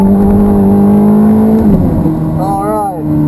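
A Ferrari F430 on the Hallett Motor Racing Circuit sends a loud, close engine drone through a sustained note, then drops pitch on a downshift before the revs climb again as it accelerates.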